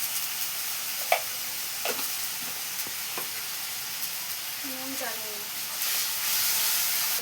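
Water poured into a hot pan of cooking, giving a steady sizzling hiss that swells louder near the end, with a few clinks and brief voice sounds over it.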